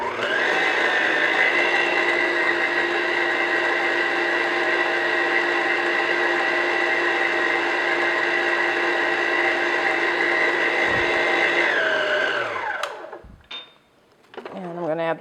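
An electric mixer beats egg yolks into cake batter for a pineapple upside-down cake, a steady loud whirring drone held evenly for about twelve seconds before cutting off, followed by a few clinks and a brief voice.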